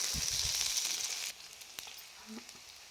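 Liver pieces with a little mint fry in a pan, a bright hissing sizzle for about a second before it drops to a quieter crackle with a few light clinks.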